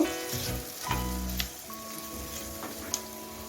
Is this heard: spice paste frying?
yes